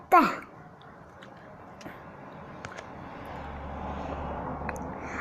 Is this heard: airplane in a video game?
yes